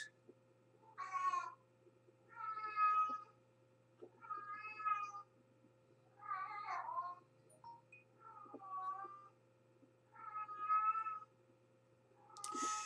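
Cats in heat caterwaul in a steady series of about seven long, wailing yowls, evenly spaced with short pauses, moderately close against a faint low hum.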